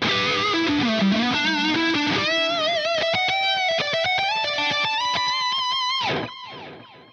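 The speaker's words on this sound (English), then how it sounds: "And that is a sweet sounding lead delay." Distorted electric guitar lead played through a BOSS 500 series delay pedal, sustained bending notes with audible delay repeats trailing behind, loud and close, fading as the last note rings out.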